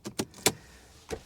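Car keys for a Mercedes W140 jangle in a few short metallic bursts, three quick shakes close together and then one more after a pause, close and fairly quiet.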